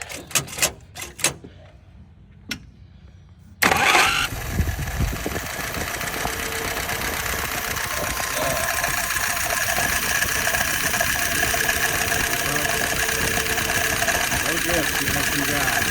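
An engine on a Brian's YF 938SD turns over with a few short knocks and clunks, then catches with a loud burst and settles into a steady, even idle that carries on close by for the rest of the stretch.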